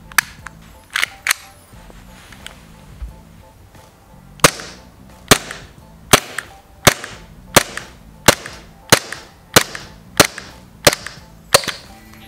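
A WE19 etched metal airsoft Glock pistol fires a string of sharp, loud, close cracks, first a few scattered shots, then a steady run of evenly spaced shots in a quiet room, with no voices.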